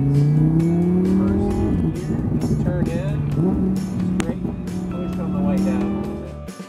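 A roadster race car accelerates through turns on a track, its engine rising and falling in pitch with shifts, tires squealing briefly, loud and close, while a voice talks over it.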